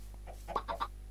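Chickens clucking in Minecraft, three short bird calls in quick succession over a steady low hum, fairly close and moderately loud.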